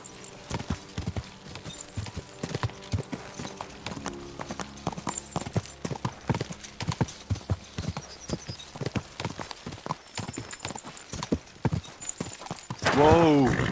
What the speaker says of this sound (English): That looks like a bloody expensive horse.